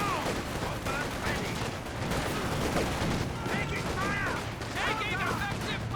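A DShK heavy machine gun fires amid battlefield gunfire in Company of Heroes 2, bursts of shots scattered under a commentator's continuous talk.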